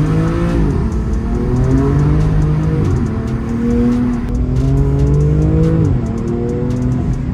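A BMW M2 fitted with an Armaspeed carbon fiber intake accelerates hard, its loud engine note climbing through repeated rising pulls with brief dips at gear changes.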